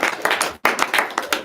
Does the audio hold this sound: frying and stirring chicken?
no